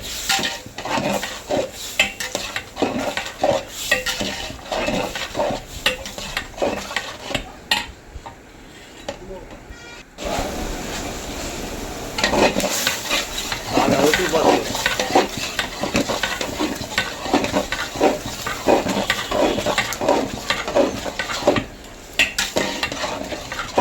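Tomato curry stirred in a pan, a spoon scraping and clinking against the metal in steady repeated strokes with a faint sizzle underneath, close and fairly loud, pausing briefly midway before resuming.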